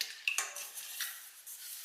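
Light clinks and taps of a utensil against a bowl as water is stirred into egg for an egg wash, a few soft scattered knocks, close and quiet.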